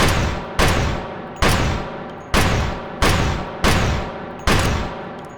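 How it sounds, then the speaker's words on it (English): Seven loud single shots from the automatic meaty pistol in the H3VR virtual reality shooter, fired at an even, unhurried pace, each a sharp crack followed by a ringing decay before the next. "Firing 52 automatic meaty pistol."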